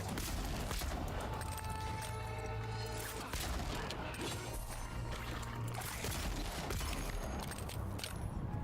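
Video game gunfire during execution-style kills, a rapid run of sharp shots and crashing impacts over continuous game noise, fairly quiet and unbroken throughout.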